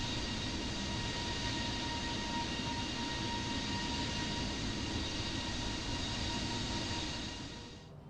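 Airbus A320neo with LEAP-1A engines in a flight simulator, a steady, quiet jet engine roar with a thin whine on top, unchanging until it fades at the end, no talk.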